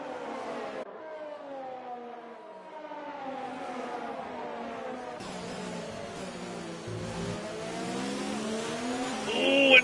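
Several race cars in a racing video game drive in a tight pack, their engines droning and rising in pitch as they accelerate. The engine tones overlap and build steadily louder.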